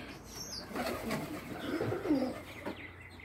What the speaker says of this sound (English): let's go and see what the pigeons are doing in my expendable loft